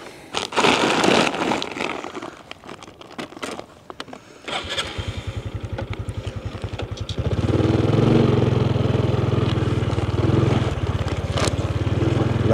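A moped out on a farm field coughs into life and settles into a rapid, puttering idle. It then picks up to a louder, steadier running drone that holds close by to the end.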